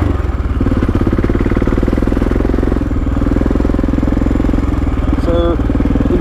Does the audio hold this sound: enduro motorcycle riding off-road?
yes